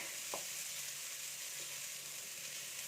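Grated coconut from a single coconut is heated and dried in a pan, giving a steady soft sizzling hiss with a faint stirring scrape or two, close and continuous.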